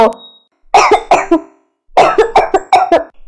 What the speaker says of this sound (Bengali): একদিন শান্তির মা রান্না করার সময় অনেক কাশতে লাগলো।